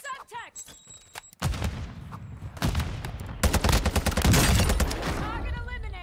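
Gunfire in the Warzone 2 shooter game, a rapid volley of loud shots that builds after a quiet opening, with bursts repeating and overlapping to the end, while a person talks over it.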